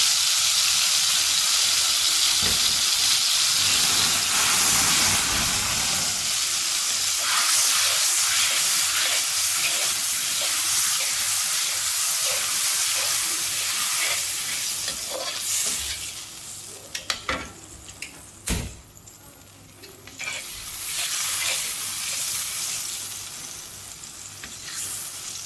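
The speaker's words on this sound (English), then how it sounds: "Add the marinated sauce and let it boil." Tamarind prawn sauce, a marinade with onion and about half a cup of water, boils and sizzles steadily in a pan, a continuous frying hiss with stirring clatter and bubbling that thins and turns patchier toward the end.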